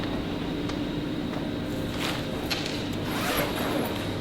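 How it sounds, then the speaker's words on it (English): A waterproof zip on an iKamper rooftop tent slides open in a short, steady rasp lasting a few seconds, close and clear over a low background hum. "Looks like a waterproof zip as well."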